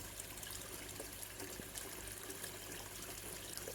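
Water from a Bakki shower filter on a koi pond trickles and splashes in a steady, even wash, continuous and fairly soft without any voices.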